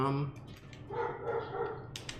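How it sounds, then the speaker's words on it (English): Dogs barking indoors in the background, a few short barks and yips spread over two seconds, moderately loud, mixed with a person talking. "apologies for the dogs"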